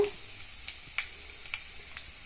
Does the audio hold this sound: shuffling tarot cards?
no